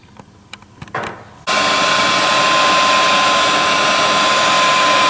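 A heat gun blows a loud, steady rush of hot air onto heat shrink tubing over the spliced wires of a car's heated seat, switching on abruptly after a few faint handling clicks and roaring continuously close by.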